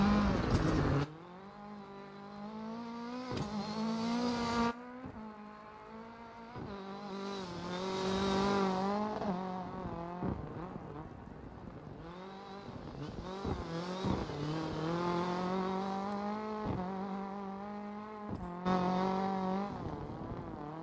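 Rally car in the DiRT 4 video game, its engine revving hard through repeated gear changes, rising and dropping in pitch continuously at close range with brief lifts between shifts.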